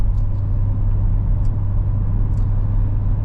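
A Holden VX Berlina family wagon with the LS1 V8 cruises at a steady pace, a low constant engine and road drone with tyre noise and no talk.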